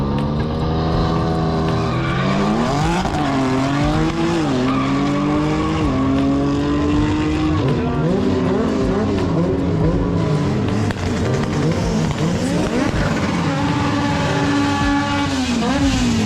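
A Honda Integra makes a drag racing run at a Jamaican drag event, its engine screaming loud and close through repeated rising gear pulls and shifts, a continuous high-revving howl for the whole run.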